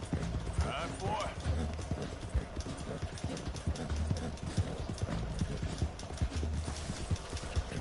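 Horse hooves gallop in a rapid, steady clip-clop rhythm in the Western video game Red Dead Redemption, with a brief whinny early on and someone talking over them.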